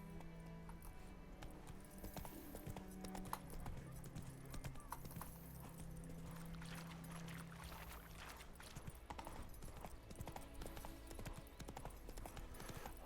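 Hooves of Roach, the horse in The Witcher 3, pound in a quick galloping rhythm, then ease off as the mount slows, with a low background hum and occasional soft water-like noises underneath.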